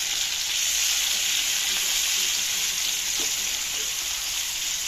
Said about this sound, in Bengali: চিংড়ি মাছগুলো আমি একটু হলুদ মরিচ দিয়ে ভেজে নেবো ভালো করে